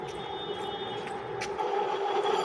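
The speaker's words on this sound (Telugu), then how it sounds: "ట్రైన్ వచ్చేసింది" A train passes nearby with a steady, continuous rumble and a sustained tonal hum that grows slightly louder toward the end, with no talk.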